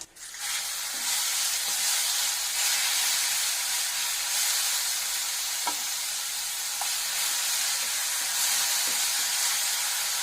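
A steady, loud sizzle of ground onion paste frying in a hot pan for chana masala, continuous hiss throughout with occasional faint stirring scrapes.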